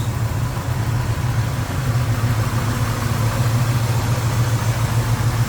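A small-block V8 in a 1967 Chevrolet Camaro SS with headers and electronic ignition idles steadily nearby with a deep, even rumbling pulse and no change in speed.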